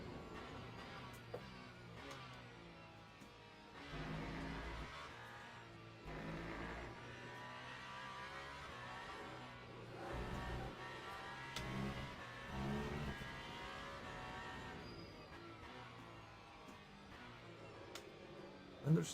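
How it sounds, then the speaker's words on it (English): Hypercar engine in Le Mans Ultimate at Spa, revving and surging through gear changes with rising and falling pitch, loud and continuous for the whole stretch with no talk over it. "I like the sound of this car though."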